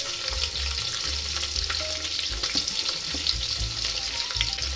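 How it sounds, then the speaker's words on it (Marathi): Onion fries in oil with cumin and mustard seeds for a basmati veg pulao: a loud, continuous close sizzle with light stirring clicks layered over a low steady hum, no one speaking. "कांदा 2-3 मिनिटे आपण तेलामध्ये परतून घेऊया"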